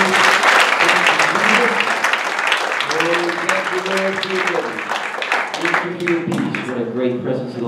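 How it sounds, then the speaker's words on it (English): A church congregation claps their hands in worship, a dense continuous wash of clapping running the whole stretch, with voices singing or calling out over it. "You clap your hands to the Lord."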